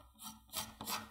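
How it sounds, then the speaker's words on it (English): A sharp card scraper drags across a hardened sulphur inlay in a few rough, rasping strokes, close and fairly quiet, each pass a gritty scrape with no talk. "scrape that stuff right down."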